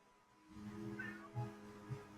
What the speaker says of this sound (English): Oh, I just heard meow.